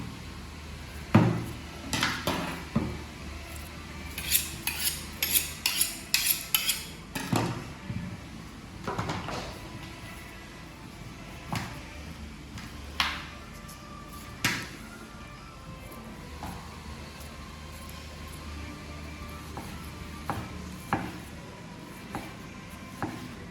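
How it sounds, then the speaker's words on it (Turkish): Knife chopping tomatoes on a board: irregular bursts of quick, close taps and knocks, with quieter pauses between them and no voices. "Babam da domatesi yardım ediyor doğramaya."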